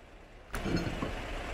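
Truck engine starting up in SnowRunner: a sharp ignition click, then the engine cranks and catches into a steady low idle rumble, fairly quiet and close.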